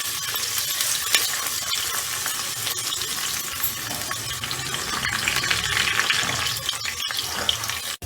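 Onions fry to a light brown in a pan with a dense, bright, continuous sizzle, scattered crackles and occasional stirring knocks; no talking.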